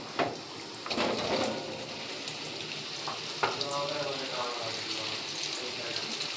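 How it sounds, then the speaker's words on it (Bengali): Potatoes fry in mustard oil with a cumin tempering, producing a steady close sizzle, with occasional stirring knocks and scrapes against the pan. "এবার আমি আলুটাকে একটু ভাজা ভাজা করে নেব।"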